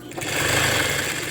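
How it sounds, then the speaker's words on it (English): A sewing machine runs a short steady burst of stitching while sewing the flange onto the front of a throw pillow, close and fairly loud. "I am stitching my flange to the front"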